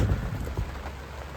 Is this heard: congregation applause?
no